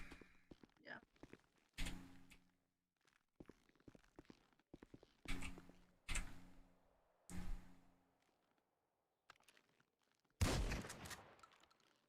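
Gunshots ring out at a gun range in a multiplayer role-play video game, several sharp single reports spaced seconds apart with a louder burst near the end, between softer thumps and footsteps, with people talking in between.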